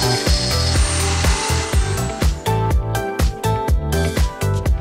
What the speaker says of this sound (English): Got a router set up, and we'll use a router to cut the 3 millimeter.